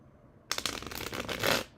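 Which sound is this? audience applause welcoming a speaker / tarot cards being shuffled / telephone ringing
tarot cards being shuffled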